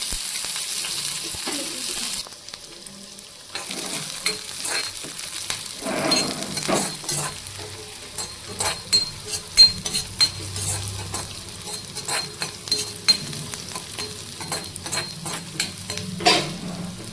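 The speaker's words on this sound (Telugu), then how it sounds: "ఆనియన్స్ కంప్లీట్గా వేగొద్దండి, లైట్గా వేగితే సరిపోతుంది." Onions frying lightly in ghee with cumin seeds for carrot rice, a steady sizzle with repeated spoon-stirring scrapes and occasional clinks against the pan, close and moderately loud throughout.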